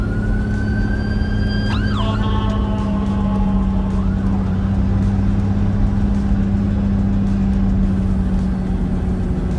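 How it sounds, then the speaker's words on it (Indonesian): A siren wails briefly in the distance over loud, steady traffic rumble, its pitch sweeping up and down a couple of times before fading. "ada pemadam kebakaran itu kan."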